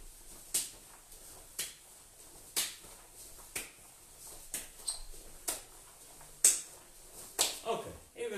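Hands clapping during a group workout exercise done standing back to back, about a dozen sharp single claps at a steady pace, roughly one per second, with faint talk underneath.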